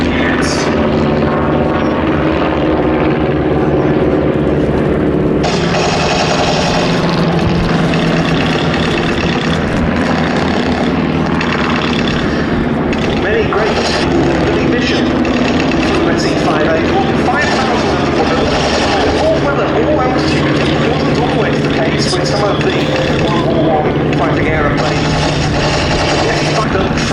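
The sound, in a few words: WWI replica biplanes, Fokker Dreidecker and SE-5, flying airshow display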